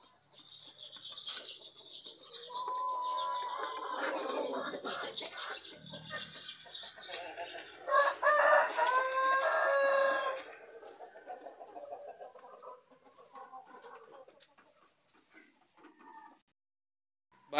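Chickens cluck steadily on a farm with a rooster crowing partway through, fairly close and loud, then the flock quiets to softer clucks near the end.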